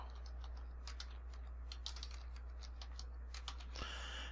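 A password is typed on a computer keyboard during an Ubuntu installation, a quick irregular run of close key clicks over a low steady hum, ending in a short burst of keystrokes.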